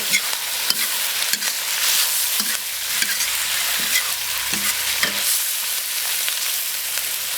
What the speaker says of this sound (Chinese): 来炒炒， 先来一点料酒去腥。